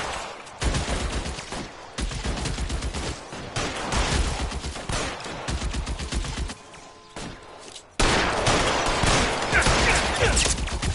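Gunfire in a shootout in the video game L.A. Noire, loud dense volleys of repeated shots that sound near and run almost without pause, then break into a heavier, louder burst near the end.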